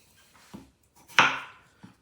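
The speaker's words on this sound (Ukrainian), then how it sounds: "Йдемо далі, картопля. Також ріжемо доволі немілко, скажімо так." Potatoes being cut into fairly large chunks on a board, three separate knife strikes with the middle one loudest, close and dry in an otherwise quiet kitchen.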